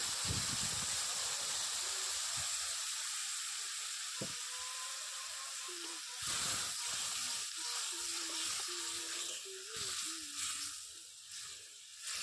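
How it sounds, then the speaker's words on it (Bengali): Water poured into a sizzling rohu fish curry with tomato: a steady, close hiss and sizzle fills the whole stretch, with a sharp surge when the water hits the pan and faint stirring knocks underneath. "এবার পরিমাণ মতো জল দিয়ে দেবো"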